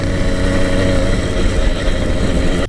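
An 80cc motorized bicycle engine runs steadily on an off-road trail, a loud, continuous close-up drone with a slight rough pulse that cuts off abruptly at the very end.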